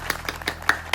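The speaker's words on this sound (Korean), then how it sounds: "우리 서로를 향해 박수 한번 할까요?" Five crisp, evenly spaced claps sound close and loud within a second, as a student congregation at a Korean Methodist church worship service claps for one another.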